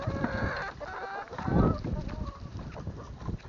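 Farm chickens and a rooster cluck and call near the listener on a windy farmyard, with a brief louder burst midway and a voice talking faintly underneath.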